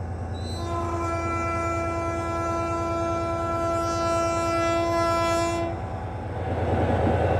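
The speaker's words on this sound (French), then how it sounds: "tout le monde adore entendre les klaxons de train." Train horn on the train through the Andes near San Antonio de los Cobres, one long loud sustained blast over rhythmic wheel clatter, ending as the rolling rumble continues.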